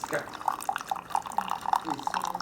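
A Keurig Classic coffee maker pours into a cup with steady, close dripping and trickling liquid, while a voice talks over it.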